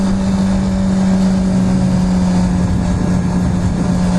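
A dirt bike engine runs loud and close on a trail near Sandpoint, Idaho, a steady buzzing drone with a strong constant tone that rises slightly as it revs, with no voices.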